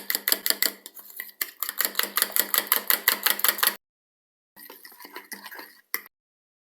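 A whisk beats a flour and water mixture rapidly and rhythmically against a bowl, clinking in a steady run, pausing, then resuming briefly.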